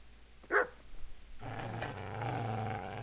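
A dog in Kingdom Come: Deliverance gives one sharp bark followed by a stretch of low, steady growling and snarling, close and fairly loud against quiet game ambience.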